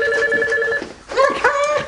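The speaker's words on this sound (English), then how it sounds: "Hold on, let me get the phone." A home telephone rings loudly and close by with a trilling electronic tone, two ring bursts separated by a short gap, with no one speaking over it.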